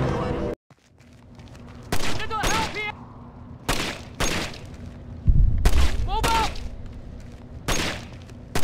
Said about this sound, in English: Mesmerized about anti-aircraft tracer fire.